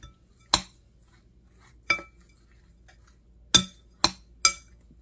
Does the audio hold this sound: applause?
no